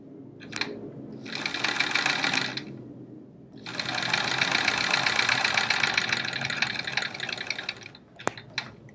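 Sewing machine stitching a quilt block seam, two runs of fast, steady whirring stitches, a short burst then a longer stretch, close and clear with brief mechanical clicks between them and no talking.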